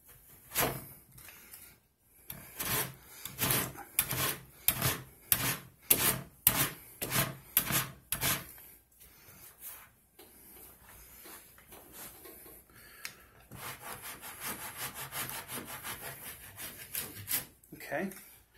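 A rasp shapes the wood of a Dragon's Lair arcade cabinet, giving a series of rhythmic close scraping strokes, then a stretch of quicker, finer rubbing, with a brief pause between.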